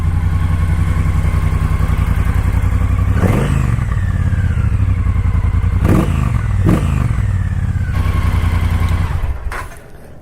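A 2019 Triumph Bobber motorcycle idles loudly near the exhaust pipe, with several sharp throttle revs rising and falling in bursts before the engine cuts off at the end.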